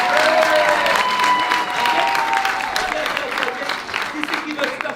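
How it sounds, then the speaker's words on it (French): Audience members at a live comedy show applaud loudly and continuously for several seconds, with shouts and voices mixed into the clapping as it gradually eases. "applaudissez, applaudissez"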